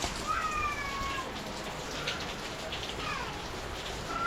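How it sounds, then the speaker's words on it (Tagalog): Steady rain falls and patters on surfaces, a constant wash of hiss close by, with faint whistling tones briefly rising above it. "umuulan na naman."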